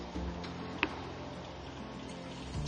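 Truck reefer refrigeration unit running at low RPM through the night, a steady low mechanical hum with one brief click partway through.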